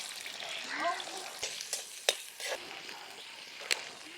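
Fennel seeds and onions frying in plenty of oil in a home kitchen, a soft sizzle broken by a few sharp spatula clinks and scrapes, near and quiet with no talk.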